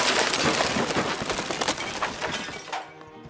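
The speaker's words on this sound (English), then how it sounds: "they heard a loud crash and clinking from the other side of the construction site" A loud crash with clinking, shattering debris at a construction site in medieval Paris. It is a dense, sustained burst of breaking and clattering that lasts about three seconds before cutting off, with no voices.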